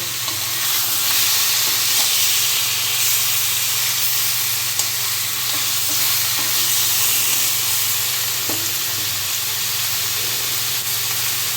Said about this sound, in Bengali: পুরোপুরি তেল ছাড়া চিকেনটা নুন আর হলুদ দিয়ে ভাজা হচ্ছে